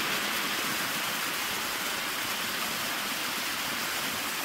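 Steady broadband rush of the Achasan landscape waterfall in a Seoul park, cascading continuously at moderate volume with no voices or breaks.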